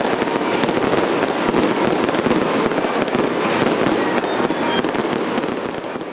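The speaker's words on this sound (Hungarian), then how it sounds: "A koncert végét tűzijátékkal koronázták meg" Fireworks close an outdoor concert, a dense continuous crackle of bursts and sizzling pops that fills the whole stretch at steady loudness, with no voices.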